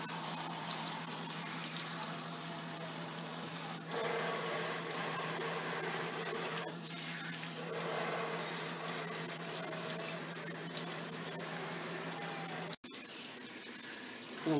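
Water running steadily from a tap as conditioner is rinsed out of a child's natural hair, a continuous close rushing flow with brief shifts and one abrupt cut near the end.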